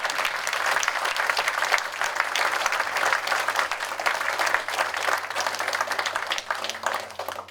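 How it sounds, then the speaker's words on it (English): A veterans' forum crowd at American Legion Post 509 gives a performer a loud, sustained round of applause, dense steady clapping filling the room for several seconds without letting up. "A round of applause for Miss Value Something New."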